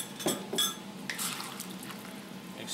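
Chicken and broccoli stir-fry tossed in a Lodge cast iron wok, with a few close metallic scrapes and clinks over a soft background hiss, no talking.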